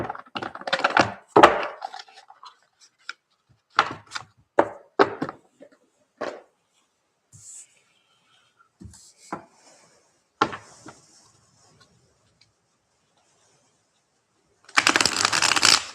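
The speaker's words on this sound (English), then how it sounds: "I want to get the Ethereal Bloom cards out." Tarot cards from an Ethereal Bloom deck are drawn out and handled, giving scattered rustles, taps and riffles of card stock that come and go across quiet gaps, ending in a brief louder flurry.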